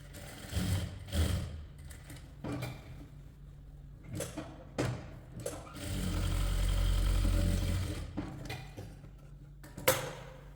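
Sewing machine joining the shoulder seam of a short kurti, heard in short stop-start runs with a longer steady burst of stitching midway, close and moderately loud with small clicks between runs.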